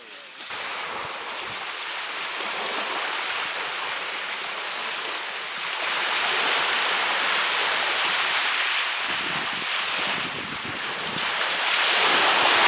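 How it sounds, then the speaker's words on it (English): Surf breaks and washes continuously on Skala beach in Kefalonia, a broad rushing roar that swells in waves, with wind buffeting the microphone. "And here is the lovely Skala beach."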